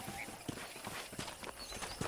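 Hooves of a horse clip-clop in a quick, even gallop in Red Dead Redemption, a faint, rhythmic run of thuds heard alone with no speech over it.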